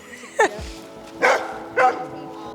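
Dogs at an off-leash dog park give three sharp, fairly close barks spread over a couple of seconds, against quiet outdoor background.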